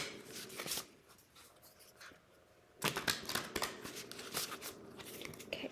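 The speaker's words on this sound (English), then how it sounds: "Let's give them a ruffle shuffle." A deck of cards is riffle shuffled, crisp rapid fluttering bursts of cards snapping together in two or three quick runs, close and fairly quiet with pauses between.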